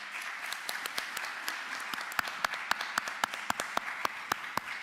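Applause fills a county commission meeting room. A moderate patter of hands is topped by several loud, regular claps from nearby clappers, and it continues steadily throughout.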